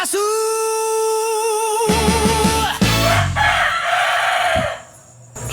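A rooster on the island of Boracay crows loudly and close by in one long, wavering call, followed by clucking and rustling farmyard noise.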